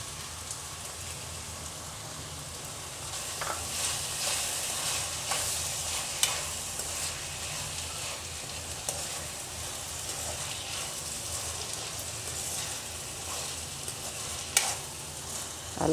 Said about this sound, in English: Allow the tomatoes to cook a little bit.